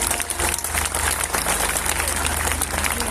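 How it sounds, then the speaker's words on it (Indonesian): A large stadium crowd at a Pentecost night worship rally applauds steadily, a dense wash of clapping held at a constant level throughout with a low hum underneath. "Berikan tepuk tangan untuk Tuhan"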